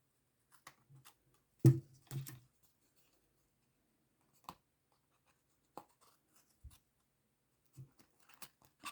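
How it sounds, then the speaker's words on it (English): Snips cutting away excess silicone sheet, a few sharp isolated snaps and clicks spaced across the moment with quiet gaps between, close and crisp. "let me get my snips, and then you turn it over and you cut all the excess off"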